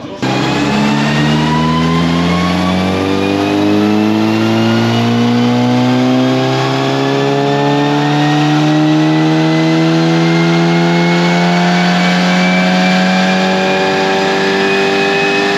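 An Audi RS6 making over 650 hp revs hard on a dyno, its loud exhaust rising steadily through a long sustained power pull, close and continuous with no speech.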